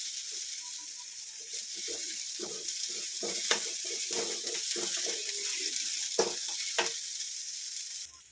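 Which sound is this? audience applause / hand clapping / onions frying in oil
onions frying in oil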